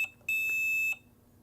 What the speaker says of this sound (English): So if I want to change the sound of my beep